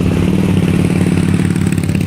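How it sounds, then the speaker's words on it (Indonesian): A motorcycle engine roars loudly and steadily close by for a couple of seconds, a continuous rumbling drone with a rattling texture as the bike passes. "Woi Bu Leli, yang bener aja dong bawa motor. Hampir aja saya ketabrakan"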